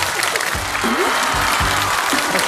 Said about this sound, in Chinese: 掌声欢迎我们的音乐老师。